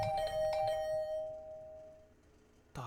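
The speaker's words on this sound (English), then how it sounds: "The usual morning announcement was drowned out by the sound of my doorbell ringing over and over." A video game doorbell chimes in a quick run of bright, repeated ding-dong tones with a ringing sustain that fades out slowly, followed by a brief sharp thump at the end, with no voices.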